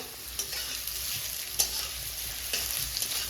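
Vegetables frying in oil for chowmein give a steady, close sizzle, broken by a few sharp stirring scrapes and clinks against the pan.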